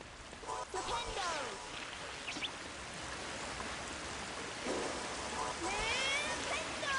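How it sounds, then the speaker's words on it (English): Waterfalls in a Harry Potter and the Sorcerer's Stone video game give off a steady, continuous rush of falling water that fills the scene at an even level throughout. "I love this area with the waterfalls."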